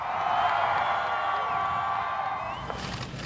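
A crowd in Texas cheers and whoops for Trump, a broad sustained roar at moderate distance. It fades slightly toward the end, where a few claps break through.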